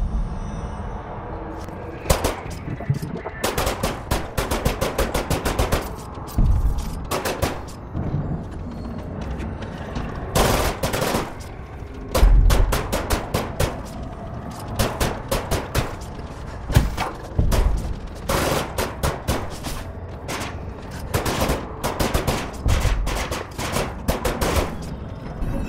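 Rapid bursts of gunfire from a weapon in the video game Control, some short rattling volleys and some single shots, steady and loud with no voices.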